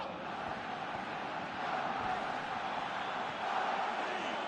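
A stadium crowd in the PES 2016 football video game, during a Champions League event match, gives a steady broad roar that swells slightly partway through, heard from a distance.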